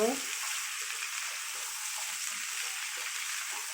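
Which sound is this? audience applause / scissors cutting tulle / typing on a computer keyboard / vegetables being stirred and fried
vegetables being stirred and fried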